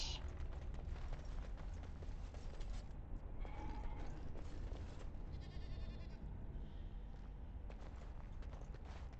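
Goats bleating in the Dragon Age Origins game world, a few short wavering bleats surfacing over a steady ambient bed of wind and footsteps, with some talk mixed in.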